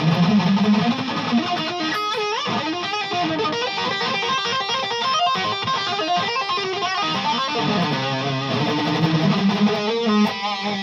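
Metal-style electric guitar fitted with Seymour Duncan pickups, played through heavy distortion: dense, fast riffing and shred-style lead runs with sustained bends, loud and continuous, with no talking.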